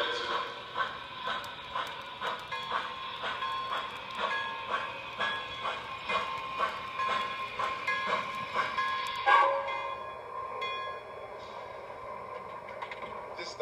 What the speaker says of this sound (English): they have realistic sounds unique to each individual locomotive, including station announcements